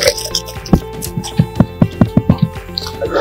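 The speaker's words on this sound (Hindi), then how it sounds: "अभी हम इसका पानी निकाल लेंगे।" Water from boiled rice dripping and splashing as it drains, a run of about ten distinct wet plops that grow denser and then fade, loud and close.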